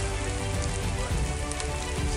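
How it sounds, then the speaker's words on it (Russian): Steady rain falls outside an old house, a dense, even hiss of drops on surfaces that continues unbroken throughout, close and fairly loud, with no voices. "сейчас дождь идет"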